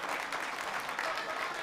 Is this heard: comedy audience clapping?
yes